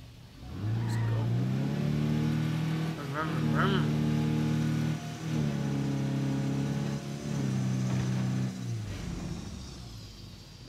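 A car engine in State of Decay 2 revs and pulls away, rising and shifting through gears loud and close for several seconds while a person talks over it.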